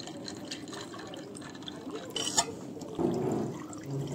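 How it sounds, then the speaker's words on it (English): Sprite soda poured over ice into a pineapple and orange juice mocktail with lime juice and simple syrup, a short fizzy pour that swells near the end after a brief clink. "top it up with Sprite"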